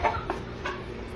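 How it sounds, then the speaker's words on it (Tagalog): Chickens cluck in a few short, close bursts inside a coop over a low background murmur. "Ito po, kulungan ng manok."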